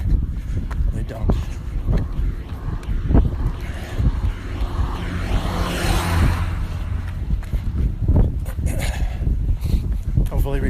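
Outdoor wind buffeting a microphone, a loud, continuous low rumble with gusty swells, under a person talking throughout.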